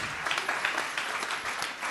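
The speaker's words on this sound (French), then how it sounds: "applaudissements pour Madame Hélène Charpentier" An audience at a round-table panel applauds a speaker, a short, even patter of many hands clapping at moderate volume, with no voices over it.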